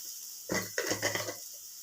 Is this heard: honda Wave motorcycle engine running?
no